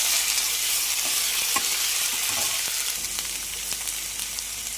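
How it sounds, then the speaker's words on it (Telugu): Ginger paste fries in hot oil for a chicken curry, giving a steady, close, loud sizzle and crackle with occasional stirring scrapes and no talking. "ఒక 2 minutes వేపుకోవాలి ఫ్రెండ్స్ అల్లం ఆయిల్లో"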